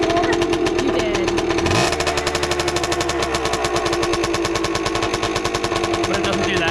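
A vintage small engine runs steadily nearby, a loud, fast, even popping putter with a constant hum that holds throughout after the fuel has been shut off.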